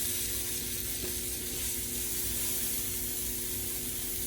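Chuck roast searing in a cast iron skillet, a constant close, even sizzle and hiss with faint stirring underneath.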